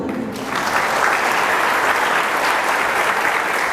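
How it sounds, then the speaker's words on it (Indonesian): A large gathering breaks into applause after a short pause, and the clapping swells quickly into a dense, steady roar that holds at full strength to the end with no speech over it. "Tong tepuk tangan untuk Tuhan."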